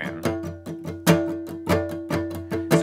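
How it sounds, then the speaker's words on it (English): Muted guitar strumming with the whole chord damped, giving a steady run of short percussive chucks with faint pitched ring, about two strokes per half second, close and alone. "So if I mute the whole chord, it sounds like this"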